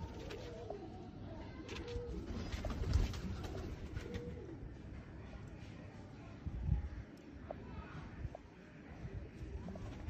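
Soft, low pigeon coos repeat close by over a steady murmur of background noise, with a couple of louder thumps.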